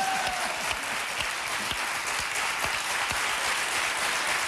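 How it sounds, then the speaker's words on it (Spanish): Steady, dense applause from a TV studio audience on a Spanish entertainment show, sustained and evenly loud throughout with no talk over it. "Un aplauso para Miss Málaga, por favor."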